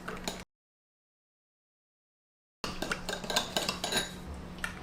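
Salad dressing with mustard, salt and pepper mixed in a bowl, a utensil clinking and scraping against the dish in quick, busy strokes after a brief silent gap.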